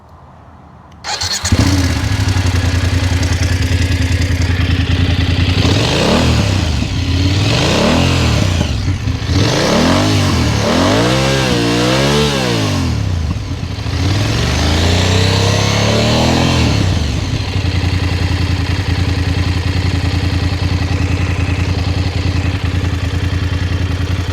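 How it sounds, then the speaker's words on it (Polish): A 2025 BMW F 800 GS motorcycle on its stock factory exhaust starts and idles with a low throb, is revved several times in rising and falling blips, then settles back to a steady idle, close and loud. "A sprawdźmy, jak F800 brzmi na fabrycznym wydechu."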